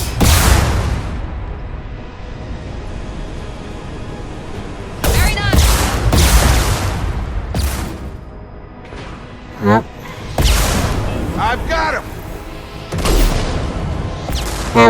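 Missile strikes and gunfire in the video game Mass Effect 2: loud, dense bursts of booms and crackling shots with sharp repeated impacts, layered over continuous game noise.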